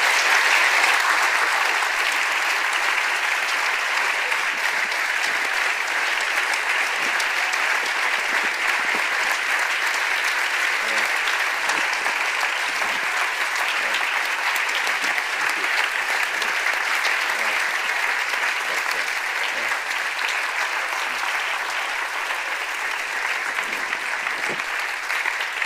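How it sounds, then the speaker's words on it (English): A lecture-hall audience applauds steadily after a university lecture by Nobel laureate economist Daron Acemoglu, a dense, even wash of many hands clapping at moderate distance that holds at a steady level from start to end, with no speech. "Let's applaud"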